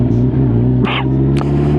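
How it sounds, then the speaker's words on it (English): A Kawasaki GTR 1400 motorcycle with a Delkevic open exhaust and no baffle, a close, loud, deep engine drone holding steady with a couple of short sharp bursts over it, outdoors in wind. "it's got a Delcovic open exhaust on it"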